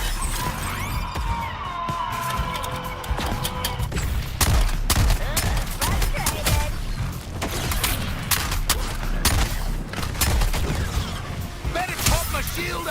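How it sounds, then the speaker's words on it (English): Gunfire from the video game Suicide Squad: Kill the Justice League crackles in rapid bursts and repeated sharp shots over a dense din of mechanical clanks, creaks and explosions, loud and continuous throughout. "It's kicking off with a digger gunshot."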